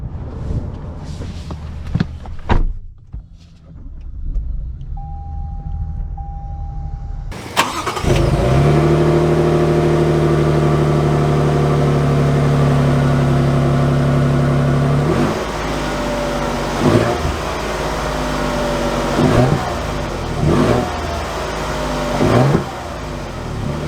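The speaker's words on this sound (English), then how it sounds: "let's take it out for a test drive of sorts" A 2022 Toyota Tundra Platinum pickup truck starts up for a test drive: some quiet handling noise, then the engine catches and settles into a loud, steady hum with changes in revs and a few brief rises later on.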